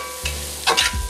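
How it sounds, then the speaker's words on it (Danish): Spices for butter chicken toast in a hot pan with a steady low sizzle, broken by a few louder bursts of stirring and scraping near the end. "grunden til, at vi rister det af, det er også ligesom for at aktivere krydderierne her"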